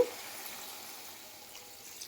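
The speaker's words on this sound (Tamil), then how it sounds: "ஒரு டம்ளர் தண்ணி ஆட் பண்ணிக்கோங்க" A cup of water poured into a cooking pot for an eggplant and tomato dish, giving a soft, steady trickling wash that fades slightly over two seconds, with no talking.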